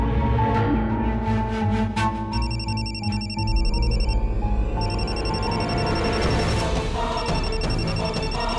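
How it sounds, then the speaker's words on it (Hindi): A mobile phone rings in a home, its repeated electronic ringtone carrying steadily through the whole stretch with a tonal music bed beneath it and no talk over it. "कस्तूरी, तुम्हारा फोन बज रहा है।"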